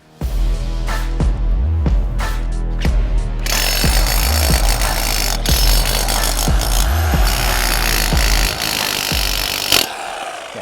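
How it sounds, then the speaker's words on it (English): A Full Boar 1050W 12J demolition hammer fitted with an SDS MAX clay spade pounds into soil beside a tree, loud close rapid hammering with a few pauses early on, then a sustained harsh chatter until it cuts off near the end. "Let's see how the Demolition Hammer does it."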